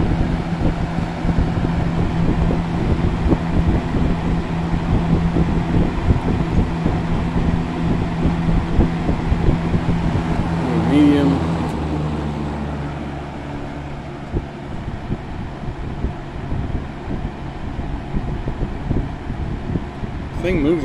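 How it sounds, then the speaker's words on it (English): A 1976 Frigid model XG20 electric fan runs with a steady whooshing drone and low motor hum throughout, briefly shifting in tone partway as a voice speaks over it. "Very good running fan now."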